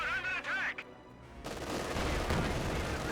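Machine-gun fire in Company of Heroes 2, an LMG opening up after a quieter stretch, a dense rattle of rounds sustained for roughly two seconds at moderate loudness.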